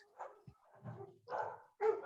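A dog barks a few times at close range, short loud yaps with brief gaps between them.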